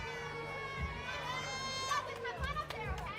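A crowd at a women's NCAA gymnastics meet between West Chester and Cortland cheers and shouts at a distance, with high, excited voices rising and falling over a steady murmur of chatter.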